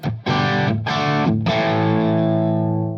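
Heavily distorted electric guitar through a Bogner Ecstasy Mini pedal with variac engaged hits three chords in quick succession, the last one ringing out loud and sustained with no talking.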